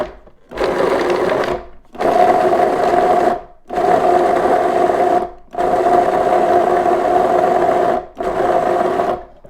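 Food processor pulsing sun-dried tomato pesto, five loud whirring bursts of about a second each separated by short silent gaps, steady motor hum during each pulse, no talking.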